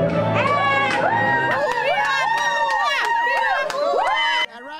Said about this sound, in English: The news of Fidel Castro's death causing Central Floridians to dance, celebrate, and cheer